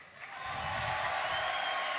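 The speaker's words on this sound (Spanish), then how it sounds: "Quiero ruidos y aplausos para Existence." An audience at a League of Legends grand final applauds for team x6tence, a faint, even wash of clapping that swells slightly and holds for a couple of seconds with no voices.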